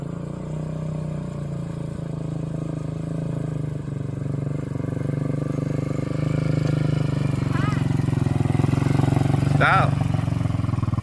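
Honda 300ex four-wheeler ATV engine runs steadily as the quad is ridden in an open area, a continuous low drone that grows slightly louder, with people talking over it.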